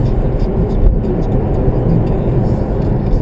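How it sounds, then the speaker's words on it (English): Motorway traffic rushing past in a dense, loud, continuous roar of engines and tyres, with a steady broadband wash and no pauses. "And this is the motorway."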